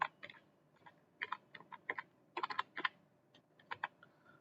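Quiet, irregular keystrokes on a computer keyboard while entering text into a Microsoft Excel salary slip, short bursts of close clicks separated by brief pauses.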